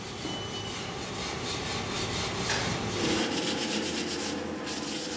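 Brass French horn tubing being filed and sanded by hand in an instrument workshop, a continuous close scraping and rubbing with repeated strokes, fairly quiet and steady, with no voices.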